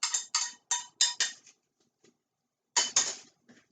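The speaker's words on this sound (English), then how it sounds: "get a spoon ready and put all that oil and the garlic right into your bowl" A metal spoon clinks and scrapes against a bowl while oil and garlic are scooped in for bruschetta, giving a run of five sharp bright knocks, a pause, then a few more close clinks with no talking.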